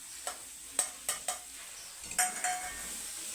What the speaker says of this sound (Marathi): सुक्कं बेसन मस्त फिरून घ्यायचं